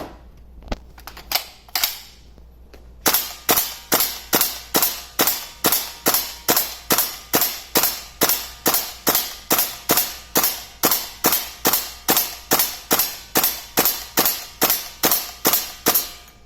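A WE SCAR-H gas airsoft replica rifle under repair testing empties a magazine in a long run of evenly spaced, loud, sharp cracks, roughly two per second, after a few scattered clicks at the start, with no talk.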